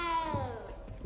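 A small cat in the Hogwarts Legacy video game gives one drawn-out, falling meow, faint and alone, with a couple of soft thumps after it.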